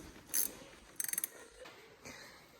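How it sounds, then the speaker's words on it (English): A ratchet clicks in a few short bursts while steering post bolts are removed from a Ski-Doo Gen 5 turbo snowmobile, faint and close, with a quick run of clicks in the middle and no talk. "now we're gonna take these 4 bolts off holding the steering post on"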